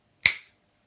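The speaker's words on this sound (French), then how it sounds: "juste après un claquement de doigts" A single crisp finger snap rings out close and clear, with a quick decay into silence and no voices around it.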